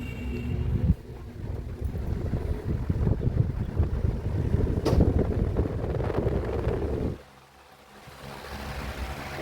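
A wall fan switched on at its lowest speed setting gives a steady whooshing rush of moving air and motor hum for several seconds, then drops away to a much quieter hiss.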